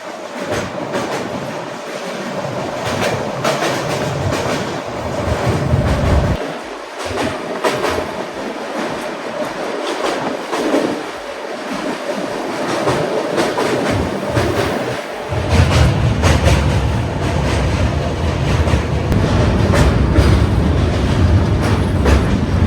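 The Bandra-Jaisalmer Super Fast Express crosses the Narmada river bridge near Bharuch. A loud, continuous rumble and rhythmic wheel clatter carry on throughout and grow heavier and deeper partway through.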